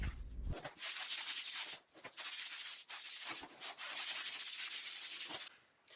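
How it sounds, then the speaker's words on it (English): A wet sponge is rubbed over an OSB wood subfloor in long, steady, hissing strokes that come close and fairly loud, with a few short pauses between passes and no talk. "Here I'm wiping the floor with a wet sponge just to remove any dust or dirt."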